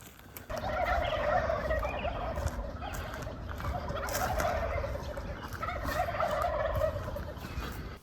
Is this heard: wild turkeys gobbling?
yes